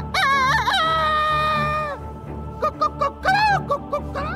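A rooster gives a long cock-a-doodle-doo crow, loud and close, followed by several shorter clucking calls.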